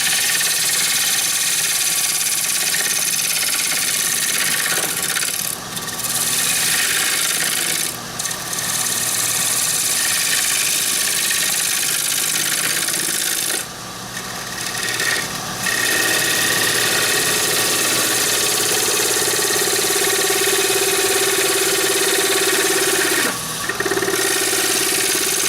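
A woodturning lathe spins a three-winged wooden bowl at about 1,000 RPM, giving a steady, loud whirring hum throughout with a few brief dips where a tool seems to lift off the wood, and no talking.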